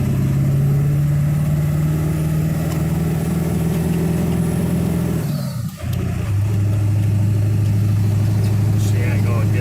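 A Ford 7.3 Powerstroke diesel truck hauling a wide load drones steadily in gear, dips briefly as a shift lands into second, then resumes a lower, even engine hum close up.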